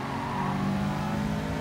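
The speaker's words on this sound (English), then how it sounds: "Here comes the Lambo." In the GT Sport racing game, a Lamborghini race car approaches with a steady, fairly loud engine roar and some tire noise, with no voices.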